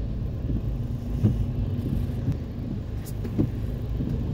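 Road traffic in Baguio on a rainy day: a steady low rumble of passing cars and engines, with a few louder thumps as vehicles go by.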